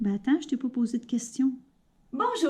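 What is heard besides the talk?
None of the usual background noises is heard.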